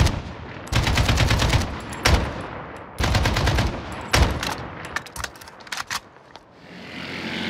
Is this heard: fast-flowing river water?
no